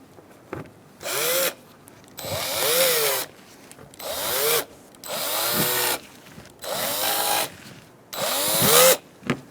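A power tool drives screws while a Ford Expedition AC condenser is installed, with six loud whirring bursts rising and falling in pitch and separated by short quiet gaps.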